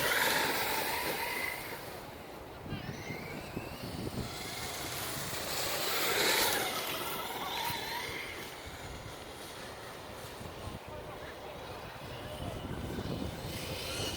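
Tekno MT410 RC monster truck on 3S with ballooning Duratrax tires and a Pro-Line Silverado body, driving at full speed outdoors; a steady, fairly loud motor and tire rush with surges and fades as it passes near and away.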